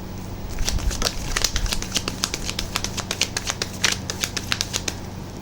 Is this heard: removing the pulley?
no